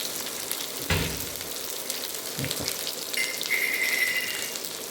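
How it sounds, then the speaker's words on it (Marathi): Onions fry in a pan for a spicy baingan bharta with ginger, garlic and green chili paste, a faint, steady sizzle broken by a few soft spoon clinks and scrapes. "हे कांदे चांगले भाजून घेते आणि नंतर सगळं साहित्य टाकते"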